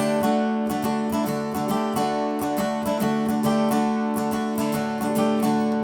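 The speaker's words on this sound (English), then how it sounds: "this is using the swing strum" An acoustic guitar strums a song in a swung pattern, with loud, bright strokes falling in an uneven long-short rhythm, steady and close, with no talking.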